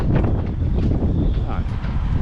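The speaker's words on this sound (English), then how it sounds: "it's quite windy today" Strong wind buffets the microphone outdoors, a steady rough roar throughout.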